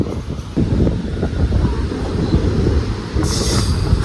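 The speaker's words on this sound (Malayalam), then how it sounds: "നല്ല രസമായിരിക്കും ട്രെയിൻ വരുന്നത് കാണാൻ" A train runs past on the Vanchi Maniyachchi–Tiruchendur railway line, close and loud, with a continuous heavy rumble of wheels and carriages and a brief metallic squeal near the end.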